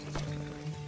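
A horse in the Red Dead Redemption 2 video game snorts and stamps close by, with hooves clopping in short bursts over a steady low hum of game ambience.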